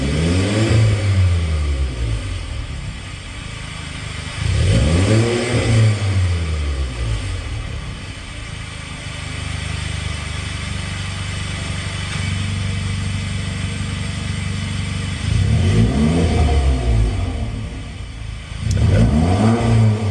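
A Volkswagen Golf R's exhaust revs repeatedly, swelling to loud throaty peaks and dropping back to a rumbling idle between revs, close by.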